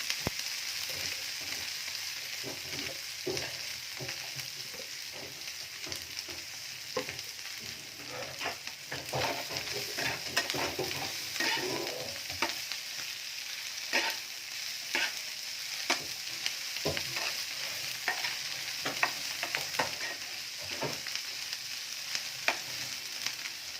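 Onion and chili fry in oil for fried fish, a constant close sizzle broken by frequent scraping clicks of a spatula stirring the pan, with no talking.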